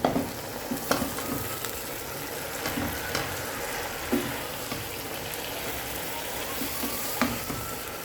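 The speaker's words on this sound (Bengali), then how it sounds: "এখন আমি শাকগুলো দিয়ে দিব। শাকগুলো দেওয়ার পরে একটু কষিয়ে তারপর আলুগুলো দিব।" Leafy greens hit a pan of cooked-down spices and sizzle steadily as they are stir-fried, a constant hiss punctuated by occasional scrapes and knocks of a spatula against the pan, close and moderately loud with no talking.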